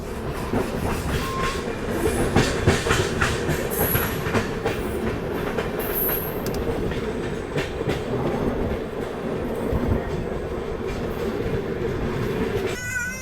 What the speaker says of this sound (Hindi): मतलब ये संघमित्रा सुपरफास्ट एक्सप्रेस है।